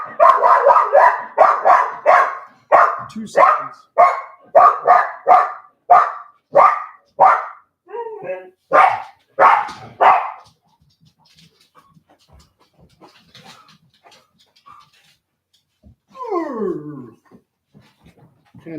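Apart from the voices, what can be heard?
dog barking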